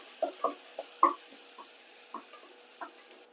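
A spoon stirs a teaspoon of ginger in three tablespoons of sunflower oil in a cooker. A few sparse, light taps and scrapes sound close by against a quiet background, with little audible sizzle.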